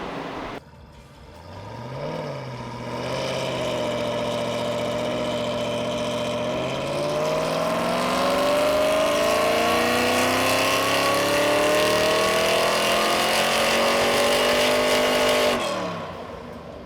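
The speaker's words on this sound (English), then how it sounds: "So I just did the full first full throttle pull here." A supercharged Ford Mustang GT on a tuning session goes through a full-throttle pull: a brief rev, then a loud, rising engine howl sustained for over ten seconds before dropping back off.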